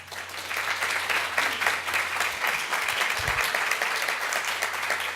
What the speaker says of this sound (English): Please give Ms. Washington an applause.